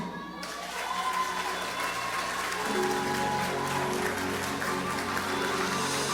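Congregation applauding in a church during a sermon, a steady wash of many hands clapping together that fills the whole space, with some speech-like sounds mixed through the crowd.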